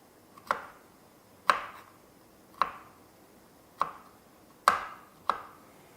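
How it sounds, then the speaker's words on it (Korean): A kitchen knife chops carrots finely on a cutting board for pasta, with six crisp, close knocks spaced about a second apart, each ringing briefly in an otherwise quiet room. "이렇게 잘게 자르고 있습니다"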